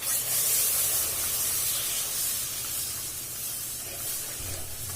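Milk poured into hot besan halwa in a pan sets off a loud, steady hissing sizzle that fades slightly and then swells again near the end, close and without talk.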